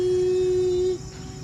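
Lawn tractor starter solenoid on a Toro 1438HXL hydrostatic tractor with a weak battery buzzing as the key is turned, a thin steady hum for about a second before cutting off.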